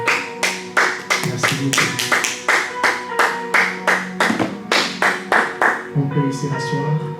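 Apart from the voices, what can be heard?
congregation applauding in church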